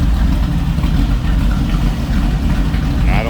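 A 1932 Ford 3-window coupe's engine idles close by with a loud, steady low rumble that carries through the whole stretch without a break.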